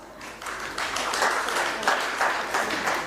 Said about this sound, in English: with your big applause